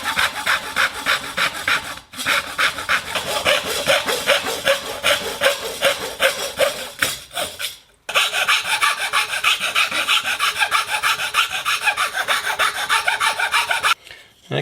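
A file rasping back and forth across a forged carbon fiber part clamped in a vise, steady rhythmic strokes close up, with brief pauses between runs.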